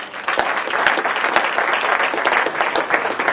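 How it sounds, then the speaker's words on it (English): A university audience gives a round of applause at the close of a Communication Studies evening talk, loud, dense clapping with individual claps standing out, steady throughout. "Could you join me in a round of applause for Dr."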